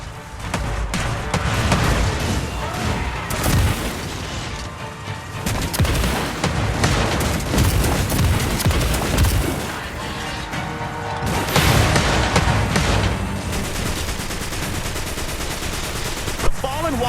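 Sustained automatic gunfire at a Fallen Walker in the Destiny Rising video game, dense rattling bursts with booming impacts that run almost without a break, briefly easing before another loud volley.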